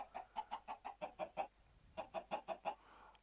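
Chickens clucking in the Minecraft modpack Divine Journey 2, a quick run of about a dozen faint, evenly spaced clucks with a short pause in the middle, heard without any talking.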